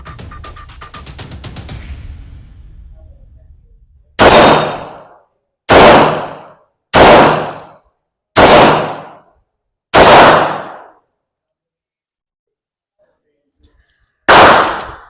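An Arex Alpha 9mm pistol is test fired outdoors: six loud, sharp gunshots spaced about a second or two apart, with a pause before the last, following someone speaking beforehand.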